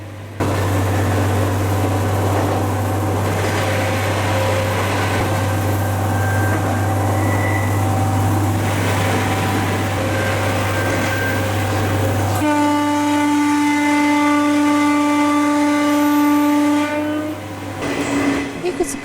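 A JR Shikoku Dosan Line train climbs a gradient through tunnels with a steady low engine drone and rumble. Midway the tone shifts to a brighter, sustained tonal whine, a voice speaks over it, and the sound cuts off near the end.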